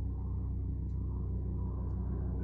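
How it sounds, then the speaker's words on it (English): A low, steady mechanical rumble with a pulsing throb, like a helicopter passing overhead at a distance, heard outdoors in the rain in the mountains. "It's a helicopter."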